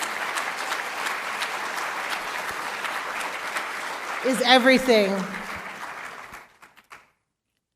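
An audience gives a round of applause, a dense, steady patter of clapping that carries on under a speaker's voice, swells briefly midway, then thins out and stops, leaving near silence.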